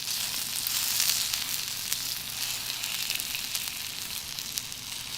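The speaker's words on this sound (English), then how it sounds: "Let's just listen to that satisfying sizzle." Yakiniku meat sizzles on a hot grill skillet in Japan, a steady, dense frying hiss with scattered crackles and pops, fairly close and continuous throughout with no talking.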